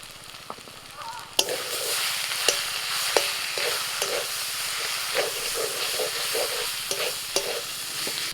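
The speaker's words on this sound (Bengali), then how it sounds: "আদা রসুনটা ভেজে নিয়ে এবার দিয়ে দিচ্ছি চর্বি" Goat fat frying in oil with ginger and garlic, a loud continuous hissing sizzle with periodic spoon clinks and stirring scrapes, close up and without talk.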